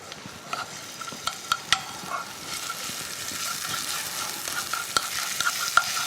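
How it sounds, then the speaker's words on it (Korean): Garlic frying in hot olive oil in a pan, a steady close sizzle that builds and thickens, broken by sharp clicks and clinks of a utensil stirring against the pan. "올리브유가 충분히 달궈진 팬에 준비가 되어지면 여기다가 마늘을 먼저 넣어서 볶아줄"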